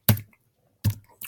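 Keys are struck on a computer keyboard while a zip code is entered, giving three crisp, separate clacks spaced out over about a second, close and fairly loud.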